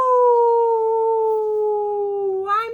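A storyteller's voice imitating a young wolf's howl, one long sustained tonal wail that slowly sags in pitch before rising at the very end, loud and close with nothing else around it.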